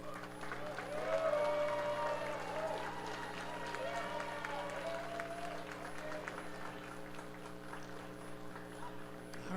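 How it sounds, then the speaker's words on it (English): A graduation audience at a college of law ceremony stands and applauds, a continuous wash of many hands clapping at moderate distance with a low hum and faint crowd murmur beneath, steady throughout. "thank your support system with a round of applause."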